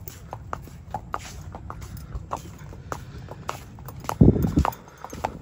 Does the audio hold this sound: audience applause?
no